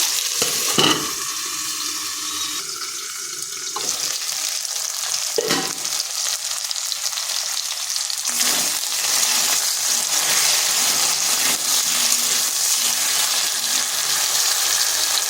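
Gathi kochu (taro) pieces fry under a lid in a covered pan, giving a steady, close sizzle with a few brief clatters early on and no talk.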